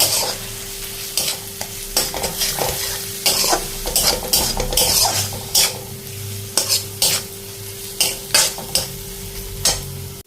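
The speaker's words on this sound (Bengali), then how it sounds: "এখন আমি মশলাগুলো একসাথে একটু ভাজি করে নেব" Ginger, onion, dried chilli and garlic fry in a pan, a steady sizzle broken by repeated sharp scrapes of a spoon stirring against the metal in an irregular rhythm, close and loud.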